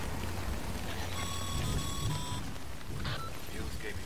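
Steady rain falling in the Death Stranding video game, a constant hiss that fills the whole clip, with a brief electronic tone and other game sounds layered over it.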